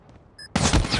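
Rapid bursts of automatic gunfire in a first-person shooter video game, a short electronic beep then a sudden loud, dense volley of shots crackling close and continuous to the end, no talk over it.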